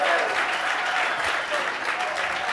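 Steady, dense applause from a debate audience for the against team, a full roomful of clapping holding at an even level throughout.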